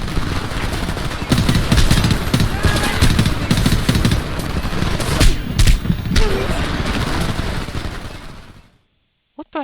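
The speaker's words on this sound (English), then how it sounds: "We're pinned! Take out those machine gunners!" Machine gun fire in the shooter game Homefront, loud sustained bursts of rapid automatic shots mixed with chaotic battle noise, cutting off abruptly near the end.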